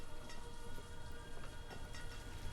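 Steady rain falls in the village-building game Banished, a dense, even patter with faint droplet ticks and no voice over it.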